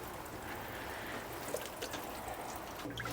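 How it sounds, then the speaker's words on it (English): Water is splashed and trickled from a watering can onto freshly sown seeds in a home vegetable garden in August, a soft steady pour heard faintly and close, with no talking. "We're just going to go in with the water and give these a splash of water."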